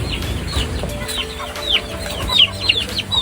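Chickens clucking inside a muddy coop, several close, busy overlapping clucks and short squawks over a noisy background, with no talking.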